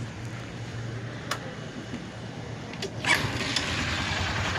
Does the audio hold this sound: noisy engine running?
yes